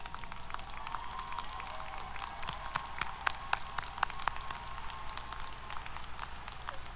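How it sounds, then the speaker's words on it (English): Graduation audience at a university ceremony applauding new alumni, scattered, fairly faint clapping from a large hall, irregular and thin rather than a roaring ovation, over a low steady background hum. "could you please stand up and help me applaud our newest members?"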